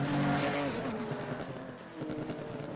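A race car in a sim racing game at the Nordschleife, apparently damaged, roars under load while its engine pops and bangs, with harsh tonal exhaust sweeps and crackles running continuously throughout.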